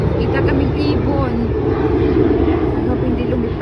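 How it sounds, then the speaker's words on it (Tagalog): A loud, steady roar of airplane engines near an airport in Florida fills the background, with people talking over it. "maririnig niyo sa background yung ingay ng mga eroplano."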